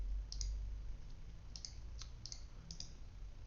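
A computer mouse clicks several times in quick pairs and singles while working in SolidWorks sheet-metal modeling, crisp and close over a low room hum.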